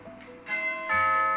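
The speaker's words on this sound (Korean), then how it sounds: "초인종 소리가 들리자 보롱이가 갑자기 심하게 짖기 시작하는데요." A doorbell inside a home sounds two sustained, ringing chime tones one after the other, clear and fairly loud, over faint background noise.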